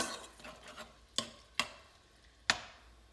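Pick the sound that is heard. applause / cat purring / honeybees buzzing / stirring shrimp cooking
stirring shrimp cooking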